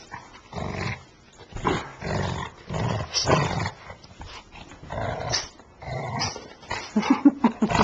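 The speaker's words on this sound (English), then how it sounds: "He's a good dog." Phoenix the dog gives bursts of barking and whimpering, loud and close, with a few higher yips near the end and no talk over them.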